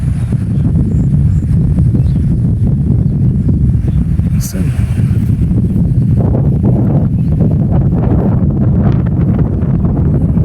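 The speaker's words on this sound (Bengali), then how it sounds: "বাতাসের প্রেশার" Strong gusting wind sweeps across an open wetland just before a downpour, a loud continuous roar buffeting the microphone throughout.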